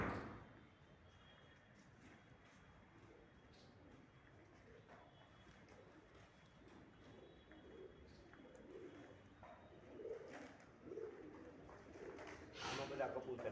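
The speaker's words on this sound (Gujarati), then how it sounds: "આમાં બધા કબૂતર ને બબૂતર." Pigeons, white ones among them, coo softly at an animal helpline shelter in Bhavnagar. The cooing is faint and distant against a low background hum, with quiet human voices nearby.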